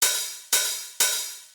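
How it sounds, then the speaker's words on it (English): Three bright, sizzling open hi-hat hits from a Roland TR-909 drum machine, house-music style, ring out evenly spaced, each decaying briefly before the next, with nothing else playing. "A lot of times with this open hat."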